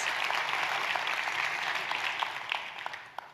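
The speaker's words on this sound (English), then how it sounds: "Give her a round of applause for outstanding excellence." Audience applause at a school district celebration of excellence, honoring a Teacher of the Year award winner; steady dense clapping from a crowd that gradually thins and fades, with a few louder individual claps near the end.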